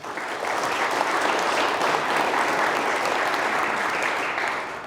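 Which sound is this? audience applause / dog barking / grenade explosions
audience applause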